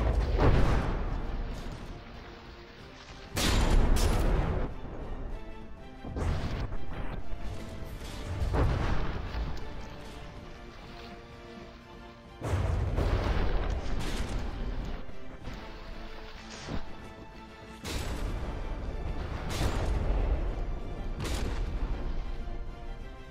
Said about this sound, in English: Couple of shells coming in, landing on the Dutchman.